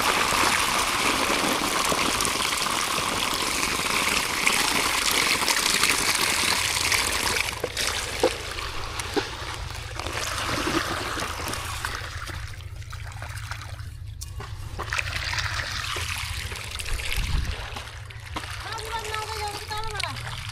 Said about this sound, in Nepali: यहाँ आउँछ पानी पानी फरर यता आउँछ